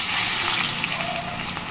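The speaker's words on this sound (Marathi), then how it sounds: "आणि आता आपल्याला हा तेलात तळायचा आहे." Salted sliced onion frying in oil for homemade chicken biryani, giving a dense, steady bubbling sizzle that stays close and even throughout.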